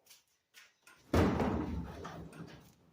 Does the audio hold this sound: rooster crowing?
no